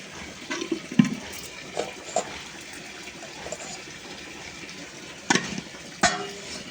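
Potato, bori and tomato curry bubbles in a pot at home, with soft sizzling and stirring clatter and a few sharp knocks against the pot, close and fairly quiet.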